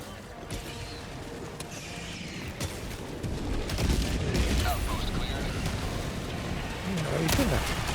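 Dense gunfire rattles continuously through a firefight in the video game Helldivers 2, with bursts of shots and explosive booms layered under a player's voice talking.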